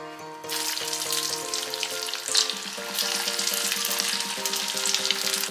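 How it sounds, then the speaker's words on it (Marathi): Medu vada made from puffed rice frying in hot oil, a steady close sizzle and bubbling that carries on throughout with no talk. "आता दुसरी बॅच आपण तळायला सोडूया"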